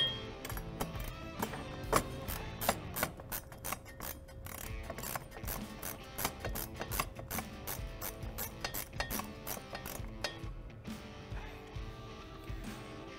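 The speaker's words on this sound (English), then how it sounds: "3/8 ratcheting wrench" A 3/8 ratcheting wrench clicks in quick, close bursts while the bolts on a Can-Am Commander UTV folding windshield bracket are tightened, with sharp metallic ticks spaced by short pauses.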